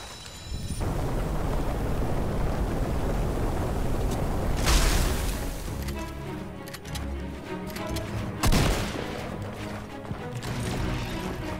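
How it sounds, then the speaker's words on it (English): Guns fired in the video game Fortnite, heard as a dense wash of loud, continuous game noise with sharp booming shots standing out at a couple of points. "Why did I just squeeze off my guns?"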